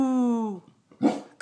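A blind Basset hound lets out a drawn-out, wavering howl on command, then a short bark-like yip after a brief pause, close and fairly loud.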